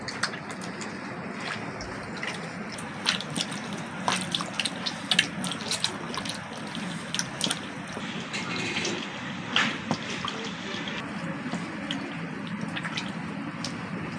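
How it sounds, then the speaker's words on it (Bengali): Water splashes and drips as maida flour is washed by hand in a bowl during home cooking, with soft, irregular sloshing and small clinks at a low, close level. "এই ময়দাটা কিন্তু 10 থেকে 12 বার কিন্তু ধুয়ে নিতে হবে।"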